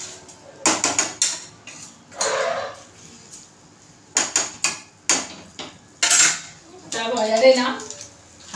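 Soya chunks are tossed and stirred in a pan over a high flame, with bursts of metallic scraping and clattering between quieter stretches and a brief sizzling rush near the end.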